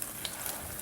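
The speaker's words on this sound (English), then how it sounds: "can see that my oil is sizzling" Latkes fry in hot oil in a pan, giving a steady, close sizzle with a soft crackle throughout, alone without voices.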